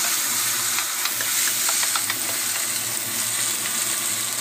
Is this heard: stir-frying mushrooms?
yes